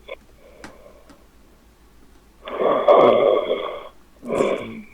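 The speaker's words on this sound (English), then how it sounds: "This is a nice snore," A sleeping man snoring over a Skype call, with two separate raspy, wheezing breaths at a moderate level and quieter faint clicks between them, and no talking.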